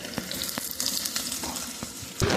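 Ginger hits hot olive oil with garlic in a pan while cooking shrimp sotanghon, giving a steady close sizzle broken by sharp crackles and a louder burst of frying at the end.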